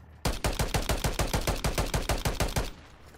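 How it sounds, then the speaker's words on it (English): A gun turret in Call of Duty MW3 Zombies fires a loud, close, steady burst of about eighteen evenly spaced rounds, then stops abruptly. "Use a gun turret. That's what I'm trying to do"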